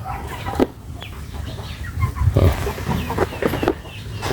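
Chickens cluck softly nearby during an egg harvest, with short scattered calls and a few louder bursts over low background rustling.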